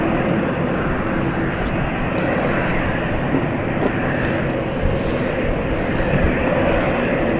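A jet airliner passes at London City Airport near cooling towers, its broad steady engine roar filling the scene at constant loudness without voices.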